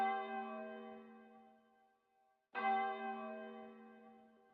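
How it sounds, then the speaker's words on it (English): Chimes from a bell ring out in sustained, resonant tones that decay, break off briefly into near silence, then strike again loudly and ring on, heard alone. "why did the clock stop or bell stop?"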